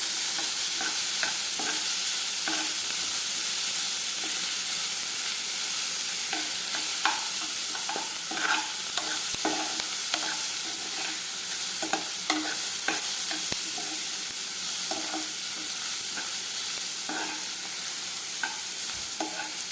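Ginger garlic paste and onions fry in a pan for a soya chunks keema masala, giving a steady loud sizzle with repeated stirring scrapes and clicks throughout, no voices.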